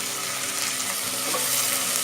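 Tomatoes frying in a pan, added after onion and capsicum for bisi bele bath, give a steady close sizzle with broad hiss and faint crackle, a touch of stirring through the middle, no voice.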